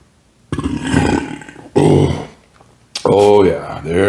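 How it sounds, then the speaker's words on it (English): A person eating Domino's pepperoni and BBQ chicken pizza lets out a few deep, throaty burps close to the microphone, the last one long and rolling, separated by brief pauses. "If I get my old classic burp going on."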